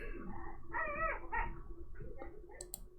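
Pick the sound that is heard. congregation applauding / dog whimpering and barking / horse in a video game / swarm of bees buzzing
dog whimpering and barking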